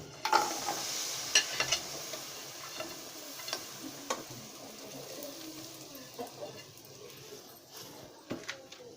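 Ground jaggery sizzling and frying in hot ghee, a steady crackle close by with scattered sharp pops and stirring scrapes, fading slightly as it settles.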